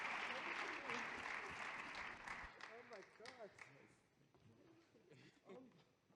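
Applause from a conference audience for poster award winners: dense clapping fades out after a couple of seconds, leaving a few scattered claps and a voice talking over the quiet room, all fairly faint.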